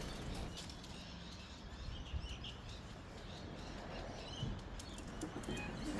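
Racing pigeons returning to a home loft in Australia, wings flapping in bursts against steady outdoor ambience, with faint chirps and coos, moderately quiet and near.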